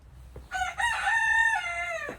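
A rooster crows loudly and close by, one long drawn-out cock-a-doodle-doo with a faint cluck just before it.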